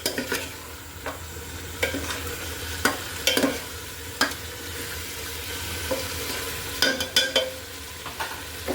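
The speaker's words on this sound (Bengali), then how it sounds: "মশলার সাথে চিকেনটা কিন্তু আমি একটু ভালো করে মিশিয়ে নিচ্ছি।" Chicken being turned through spices in a hot pan: a low sizzle with repeated scraping, clattering stirring strokes at an uneven rhythm, close and fairly loud.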